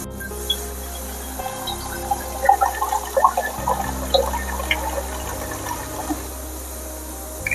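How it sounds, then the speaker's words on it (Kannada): Water is poured into a pan of simmering tamarind dry fruit gojju, giving a close, steady splashing trickle with small drips and no voices. "ಇದು ಬೇಯೋದಕ್ಕೋಸ್ಕರ ಸ್ವಲ್ಪ ನೀರು ಹಾಕಿದೆ"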